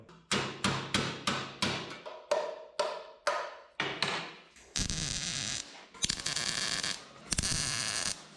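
Sharp metal hammer blows ring out on the body of a 1967 Toyota Stout truck in a steady rhythm, about a dozen strikes, followed by a few bursts of louder, sustained grinding-like noise.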